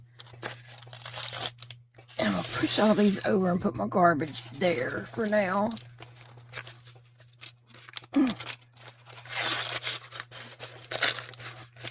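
Small scissors snip and tear open a Hello Kitty toy package in short crinkly bursts, before and after a stretch of close, casual talking.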